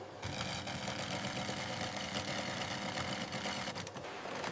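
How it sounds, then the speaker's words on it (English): Automated industrial sewing machine in a garment factory stitching seams, a dense steady mechanical hum and rattle throughout with a brief shift in texture near the end. "The assembly stage begins with fully automated precision stitching."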